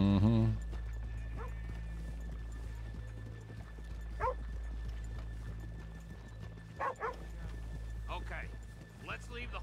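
Horses in Red Dead Redemption 2 clip-clopping, with scattered hoof beats and occasional snorts or whinnies, plus a dog barking now and then, all under a low background hum and faint talk.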